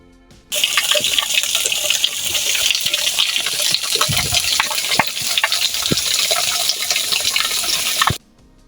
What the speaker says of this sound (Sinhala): ඔයාලා ඒ දැක්කේ සීතල වතුර තියෙන මෙතන තියෙන චූටි පිහිල්ලක්